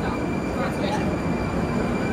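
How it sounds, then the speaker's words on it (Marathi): A metro train pulls into an underground station in Moscow with a steady, loud rumble and rushing noise that fills the platform and masks everything else. "ट्रेन आली, जरा थांबूया. आवाज जास्त होतो ट्रेनचा."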